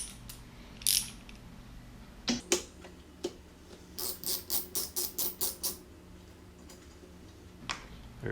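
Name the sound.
ratchet removing 14 mm bolts, Scion tC strut bar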